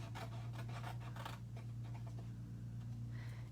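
Scissors snip and scrape along the score lines of a paper treat holder, a quick run of close, quiet cuts over a steady low hum that fades into near-quiet rubbing.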